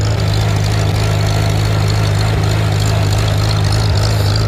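A Farmall Super C tractor engine runs in third gear with a back blade attached, a loud, steady low thrumming chug close by that carries on without a break.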